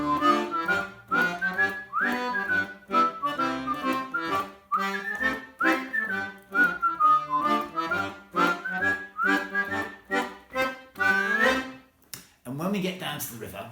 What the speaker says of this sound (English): I'll play my little theme tune again and whistle along